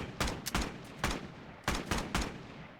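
A rifle fires in a roleplay wargame, five or so sharp single shots spaced unevenly, each with a short echoing tail, fairly close.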